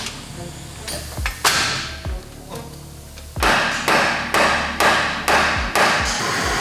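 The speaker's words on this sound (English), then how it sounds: "when he hammers it, it doesn't move because it's frozen within that sleeve" Repeated hammer blows strike a frozen bushing bolt seized in its sleeve during an old V6 to V8 swap, two isolated hits early, then a steady run of loud, evenly spaced metallic whacks echoing in a shop.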